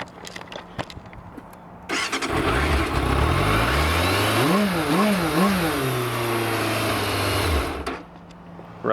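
A 1994 Yamaha FZR600 sport bike is started with the choke on, cranking briefly, then catching into a loud idle. The revs rise and fall in a few quick blips before settling into a steady running note that stops near the end.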